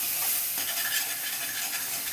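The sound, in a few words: spices frying in fish-frying oil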